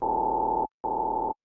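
Synth tone with chorus effect turned off in a minimal house track, two identical sustained flat buzzy notes, each about two-thirds of a second, separated by a short gap.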